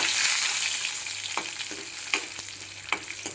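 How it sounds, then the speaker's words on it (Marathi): Cumin, mustard seeds and curry leaves sizzle in hot oil for a tempering, a steady bright hiss that eases slightly while sharp pops and spatters crackle every half second or so. "आपण जिरे आणि मोहरी टाकून घेऊया आणि कढीपत्ता"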